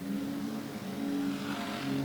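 A VY Commodore street stock race car engine drones steadily as it runs past, its tone wavering and sputtering unevenly with an electrical misfire.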